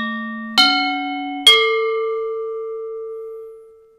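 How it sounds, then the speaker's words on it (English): Indonesian gamelan gongs from a classroom set struck one after another, three clear metallic tones stepping from one pitch to the next, the last and largest ringing out with a long, clean sustain that fades slowly. "There's a small gong, a medium gong, and the large gong."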